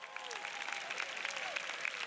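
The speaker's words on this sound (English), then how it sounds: "Give all the new people a round of applause." Attendees at a training event clap for newcomers, a fairly quiet, even wash of applause with faint tonal traces and crowd murmur beneath.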